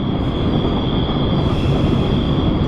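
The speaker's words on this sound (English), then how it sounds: "train brakes applied" A 10,000-ton freight train at Cajon Pass, hauled by a single MP15 locomotive, applies its brakes, producing a loud, sustained high metallic squeal over a constant rolling rumble of wheels.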